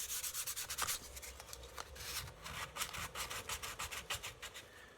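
Rhythmic strokes of sandpaper rubbing across a wooden parlor guitar body, a quick steady back-and-forth scraping at close range, fairly soft and with no voices.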